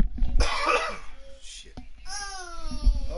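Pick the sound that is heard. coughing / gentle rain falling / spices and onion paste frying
coughing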